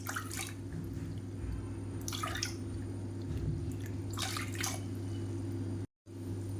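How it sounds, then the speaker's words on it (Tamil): Water poured from a cup into a pot while preparing a healthy home remedy drink, a few soft splashing pours separated by quiet pauses, faint and close. "மூணுலேருந்து நாலு கப் அளவுக்கு தண்ணி சேர்த்துக்கோங்க"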